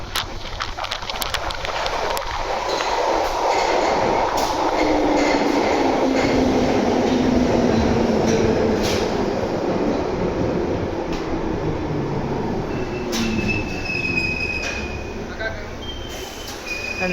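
A London Underground tube train rumbles through with a sustained roar and a rising whine of motors, wheels clattering and squealing faintly, loud and close throughout.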